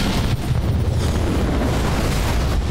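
Dense, continuous rumbling barrage of weapons fire and explosions as units attack a Scarab in the Halo Wars 2 video game, loud and unbroken with no clear separate blasts.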